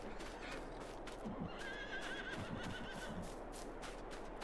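Horses neigh and whinny inside a stable in the Farming Simulator 22 video game, with several calls over a steady background hum and soft hoof clip-clops.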